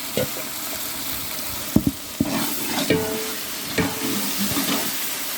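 Tomatoes fry with ginger-garlic paste, shallot paste, cinnamon, clove, cardamom powder and cashews for Dindigul chicken biryani, sizzling steadily under a few irregular scraping stirs and clinks, close and moderately loud.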